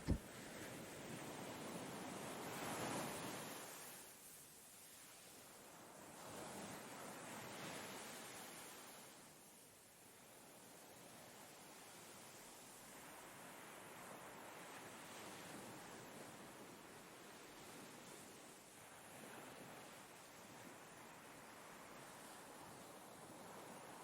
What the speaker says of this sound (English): You listen to the soft sound of the surf.